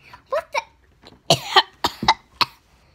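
Several sharp coughs come in quick bursts, a couple at first, then a cluster of harsher ones, close and loud.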